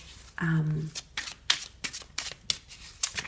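Tarot cards are shuffled close by in several quick riffling bursts, and a person talks over and between the shuffles during a Virgo reading.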